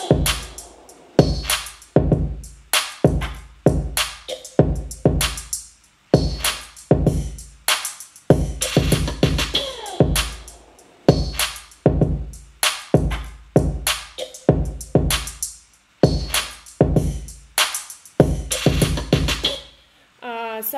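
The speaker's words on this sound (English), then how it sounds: "It is CYMATICS Hi-Hat 12. I used the CYMATICS sample pack again." Crisp hi-hat samples from a CYMATICS pack, triggered in Logic's EXS24 sampler, tick in fast, steady, pitched patterns with rolls, clear and close with no voice.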